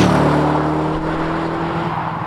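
A BMW Z8 roadster's engine pulls steadily in fourth gear at low revs, a smooth, continuous drone heard close and alone with no speech.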